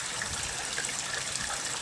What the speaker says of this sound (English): The waterfall, the current from the waterfall is pushing it against the sides